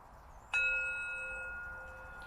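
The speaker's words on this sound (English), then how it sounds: "I use a singing bowl to lead us into the practice" A single clear strike of a singing bowl, a bright metallic tone that rings on and slowly fades in a quiet room.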